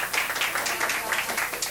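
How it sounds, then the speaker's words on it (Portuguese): Studio audience clapping for a guest called onstage during a Brazilian television program, a dense, continuous patter of hands at moderate loudness throughout the short stretch. "Uma salva de palmas para Camila"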